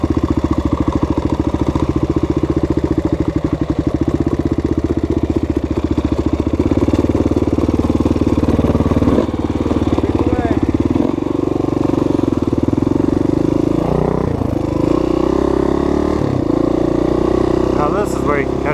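An air-cooled dirt bike engine rides a trail loop in Michigan, loud and close with steady revving that rises and falls through shifts and throttle changes, while a rider talks over it.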